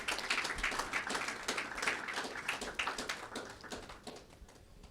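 An audience at a closing ceremony in Yaoundé bursts into sustained applause, many hands clapping in a dense, continuous patter that eases slightly toward the end.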